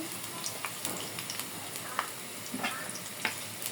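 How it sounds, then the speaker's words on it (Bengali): About a cup of onions fries in hot oil in a pan, giving a soft continuous sizzle with occasional clicks of stirring, close but fairly quiet and without speech. "গরম হয়ে গেছে পেঁয়াজ দিয়ে দিলাম এখানে এক কাপের মতো পেঁয়াজ আছে"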